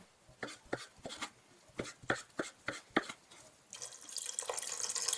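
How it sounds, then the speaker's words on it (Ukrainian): A knife cuts cleaned sulphur shelf mushroom into strips, with about nine crisp, evenly spaced chops up close, followed by a steady rush of running tap water toward the end. "Трутовик сірчано-жовтий почистили, ретельно помили під проточною водою та нарізаємо соломкою."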